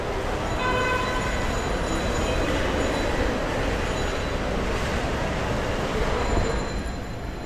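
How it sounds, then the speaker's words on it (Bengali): A train at Dhaka Kamalapur railway station, a continuous loud rumble of rolling rail cars with steady wheel noise and faint high squeals throughout. "এটা হলো ঢাকা কমলাপুর রেলওয়ে স্টেশন"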